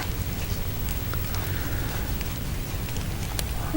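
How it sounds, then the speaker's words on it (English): Steady rain falls outside an open window, a continuous dense patter with scattered sharper drops, moderately loud and even throughout, with no voices. "I love the sound of rain, man."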